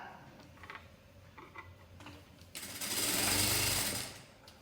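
Sewing machine stitching a sleeve into a blouse, a short run of soft stitching that swells into a louder, steady whirring burst near the end before stopping.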